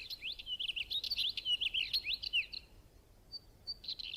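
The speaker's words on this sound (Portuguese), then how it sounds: "O chasco cinzento saúda a nova estação muito à sua maneira." A northern wheatear sings in the Pyrenees with a rapid scratchy warble of high chirps and trills, near and clear for about two and a half seconds, then a pause and a few short notes.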